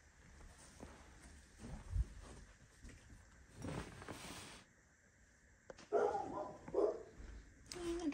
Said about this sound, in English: Dogs are barking at nothing.